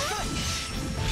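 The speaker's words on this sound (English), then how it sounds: "The glass shatter sound." Glass shatters in the video game Shining Resonance Refrain when a battle begins, a short, bright crash with a sweeping whoosh layered under game music, no one talking.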